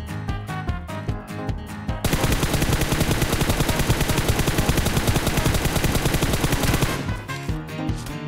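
Rapid automatic gunfire in a pirate-themed video game, a sustained dense burst of shots for about five seconds, preceded and followed by sparser single shots and clatter, loud and close.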